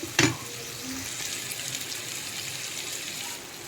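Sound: tomatoes cooking in a pan over low gas

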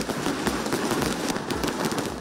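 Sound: fireworks and firecrackers bursting during Diwali

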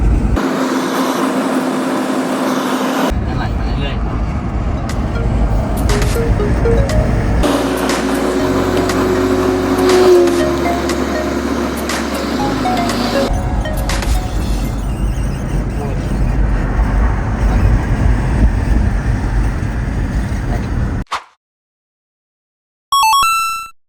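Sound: car engine running while driving

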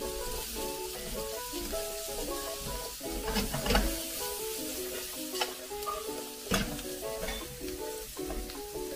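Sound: food sweating and sizzling in a pan

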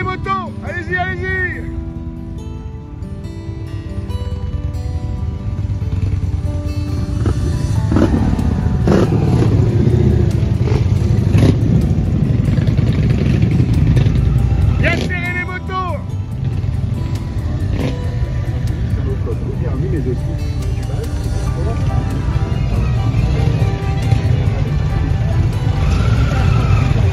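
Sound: motorcycles racing past

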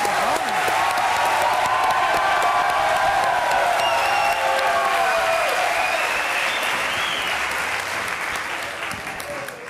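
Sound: audience applauding for Fátima

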